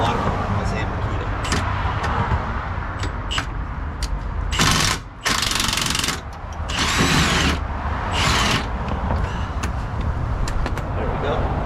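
Milwaukee or Makita power tool spinning out a shock bolt on a Jeep Wrangler 4xe during a lift kit install, several loud close bursts of impact whirring over steady background rumble.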